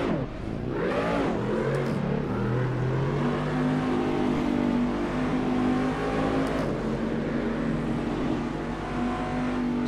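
A Cadillac DPi prototype race car engine in Assetto Corsa drops through a quick downshift, then drones steadily at high revs, loud and continuous for the whole stretch.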